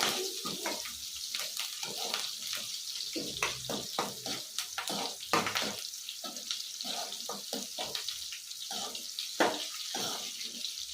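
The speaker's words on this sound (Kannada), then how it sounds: "ಕರಬೇವು ಹಾಕ್ತೀನಿ ಈ ಸ್ವಲ್ಪ ಗೋಲ್ಡನ್ ಫ್ರೈ ಆಗಿ" Curry leaves frying in hot oil for a Kannada fenugreek huli, a steady crackling sizzle with sharp popping bursts throughout, fairly close and with no talk over it.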